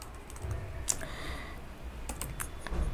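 Keys tapped on a computer keyboard while writing PHP code, a light, irregular patter of clicks under a steady hum, with a couple of slightly sharper strokes standing out.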